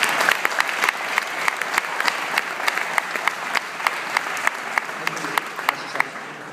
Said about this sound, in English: Big round of applause for the people, please.